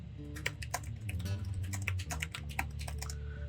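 Low-profile mechanical keyboard being typed on, a steady run of crisp, close keystroke clicks in irregular bursts over a low background hum, with no talking.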